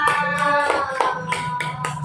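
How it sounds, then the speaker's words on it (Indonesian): Children in a primary school classroom clap their hands together in a few rhythmic, loud bursts, close by, with a tonal hum running underneath. "Tepuk tangan untuk kawan kita."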